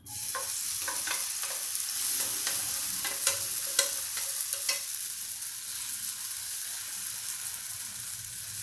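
Green pea dosa batter frying in oil on a pan over a low gas flame, a steady close sizzle and hiss with a few sharp crackles and stirring clicks early on, no talk.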